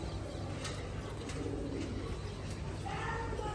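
Pigeons of the Bagha breed coo softly at a rooftop pigeon farm, faint low coos repeating against a steady background hum with no talking.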